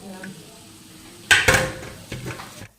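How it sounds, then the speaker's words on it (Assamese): Spoon scraping and clattering in a pan as jaggery is stirred into grated coconut for laddu, a few clustered knocks and scrapes, fairly close. "নাৰিকলতে গুড়খিনি দি দিলোঁ, এতিয়া লৰাই আছোঁ"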